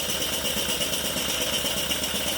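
Twin cylinders of a coal-fired live steam G gauge DR 99 locomotive model running, giving a steady, dense mechanical chuffing hiss at close range with no break and no speech.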